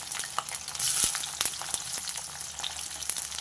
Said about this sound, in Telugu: ముందుగా ఘాట్లు పెట్టుకున్న దొండకాయల్ని నూనెలో కొంచెం వేయించుకుంటా, పచ్చివాసన పోయే వరకు.